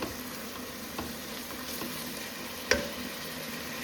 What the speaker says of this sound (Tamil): வெங்காயத்தை நல்லா வதக்குங்க.